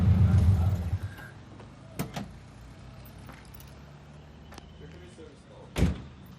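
A voice at the start, then two sharp Subaru WRX car door slams a few seconds apart, the second louder, over quiet outdoor background noise.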